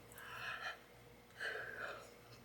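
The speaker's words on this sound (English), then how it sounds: "Apologies for the yawning." A person yawns twice, each a long breathy drawn-out exhale with a faint voiced tone, close and fairly quiet, separated by a short pause, with no talk.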